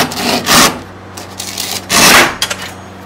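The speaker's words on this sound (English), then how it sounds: "So I've got this kind of an older Japanese saw that should work pretty well because it's a pull, so it won't pull the Masonite away from the workbench" An older Japanese pull saw cuts through a Masonite sheet along a workbench edge, giving two loud, raspy pull strokes with quieter scraping return passes in between, close and with no talking.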